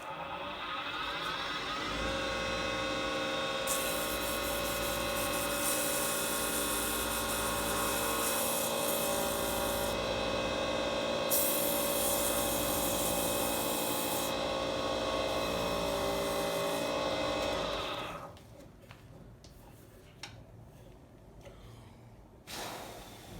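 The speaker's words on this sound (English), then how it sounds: "now I'm going to crank it up and sand it" Wood lathe spinning a turned pen blank while it is sanded, a loud continuous whir with rasping friction layered on top for about eighteen seconds before the motor cuts and only small handling noises remain.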